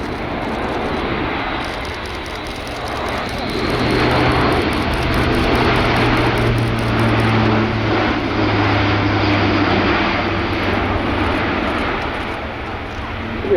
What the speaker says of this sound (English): The A400M is an incredibly capable aircraft.